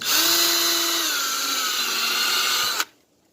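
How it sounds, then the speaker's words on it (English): A power drill whines steadily for close to three seconds while drilling a hole in building a tiki hut, its pitch dipping slightly as it bites in, then cuts off abruptly into silence. "I drill a hole here."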